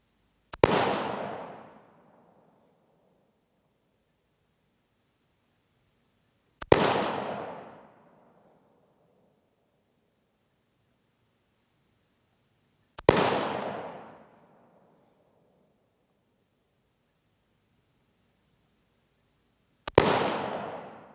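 Four loud, sharp rifle shots from a Savage MSR 10 Hunter chambered in 6.5 Creedmoor, spaced evenly about six seconds apart, each with a ringing decay and quiet in between, with no talking.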